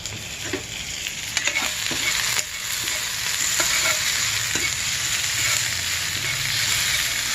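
Eggs fry in a pan on a stove at medium heat with a loud, continuous sizzle. Occasional soft scrapes come from stirring at intervals, close up and with no speech.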